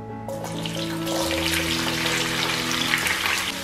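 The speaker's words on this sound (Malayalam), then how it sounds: "ഇതൊരു ലൈറ്റ് ബ്രൗൺ ആകുന്നത് വരെ നമുക്ക് ഈ എണ്ണയിലിട്ടൊന്ന് നന്നായിട്ടൊന്ന് വറുത്തെടുക്കാം" Coconut pieces dropped into hot coconut oil hiss and bubble in a steady, close frying sizzle, with a tonal hum from kitchen equipment running underneath.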